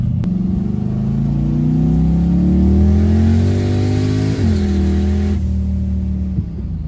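A twin-turbo big-block Ford Fairmont roars hard and close under full throttle in a test pull, its engine note climbing steadily, dipping briefly at a gear change, then pulling again.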